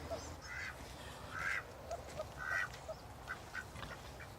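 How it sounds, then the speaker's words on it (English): Ducks quack on a homestead at feeding time, scattered nasal calls from several birds at a moderate distance, with louder bursts near the middle over a constant outdoor hum. "These ducks just go wherever they want."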